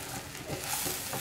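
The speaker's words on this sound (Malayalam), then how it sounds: "അതിനുശേഷം നമുക്കിത് നല്ലപോലെ ഒന്ന് മിക്സ് ചെയ്ത് കൊടുക്കാം." Unroasted rava semolina is stirred and mixed in a pan for upma, giving a soft continuous scraping and faint sizzling texture, close and steady, with no talking.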